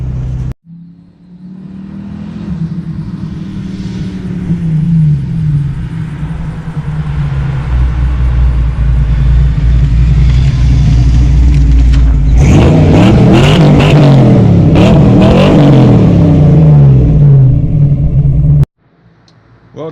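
A Ford Fox Body Mustang with a freshly broken-in 331 stroker V8 rumbles at idle, then revs hard and accelerates loudly up close, engine note rising and falling through gears before cutting off abruptly.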